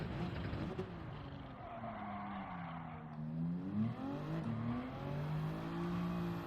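A Toyota Supra race car in a racing video game drones along with a steady engine note whose pitch rises and dips as it shifts and accelerates, continuous and close, with faint tire scrubbing.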